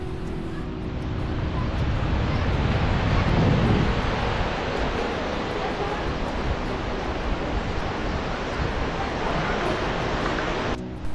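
Sea waves roll onto Oceana beach at Digha, a steady, loud wash of surf with a constant broad roar and no voices.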